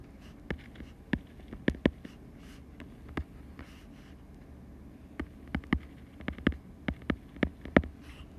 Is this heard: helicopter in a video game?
no